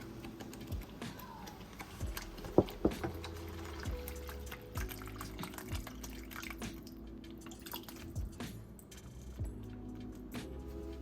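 Chicken broth drips and pours into a pan in small bursts, with scattered clicks and taps, close and fairly quiet.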